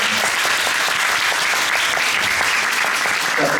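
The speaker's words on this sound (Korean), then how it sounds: "이 항상 수고해주신 배우들 전체적으로 박수 한번 부탁드리겠습니다" Theatre audience at a musical stage greeting applauds the cast, loud continuous close clapping with no break throughout.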